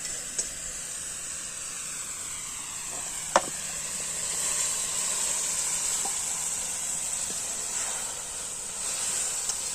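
Cooked goat tripe (boti) is stirred in a pan while it sizzles and hisses steadily, and a few sharp clinks of the utensil stand out against the frying.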